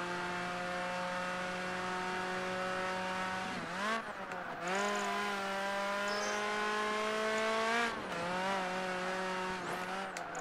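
A race car in Project Gotham Racing 3 holds a loud, steady engine drone with rising revs, dipping abruptly twice as the driver shifts gears, then climbing again, close and continuous with no talk.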